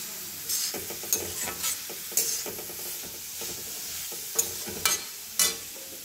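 Grated carrots roasting in ghee for carrot halwa, a steady soft sizzle broken by scraping stirs and occasional louder clanks of the spoon against the pan, close with no talk.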